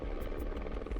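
A search and rescue helicopter flying during a river callout, its rotor giving a loud, continuous throbbing chop close by, steady through the whole second with no voices.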